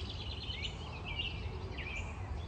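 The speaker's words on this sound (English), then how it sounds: "I love hearing the birds in the background" Birds singing in a spring forest near a road: a few faint, sweeping chirps and calls rise over a low, constant background rumble.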